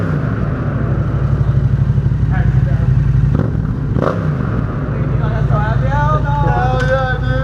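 A Yamaha FZ-07 motorcycle exhaust revs loudly inside a parking garage, a steady rumbling idle rising into throaty revs with echoing reverberation, while people talk over it.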